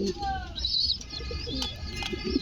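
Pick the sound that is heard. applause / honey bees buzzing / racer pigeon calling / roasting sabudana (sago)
racer pigeon calling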